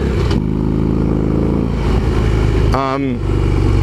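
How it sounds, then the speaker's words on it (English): A motorcycle engine revs and lugs as its rider tries to shift gears without using the clutch, producing a rough, stumbling drone with a sharp jump in pitch near the end, close and loud with voices over it. "Trying to change gear without the clutch, it looks like"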